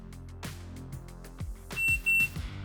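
A short, high electronic beep from a dry-fire shot timer sounds twice near the end, preceded by a few dull knocks and thumps.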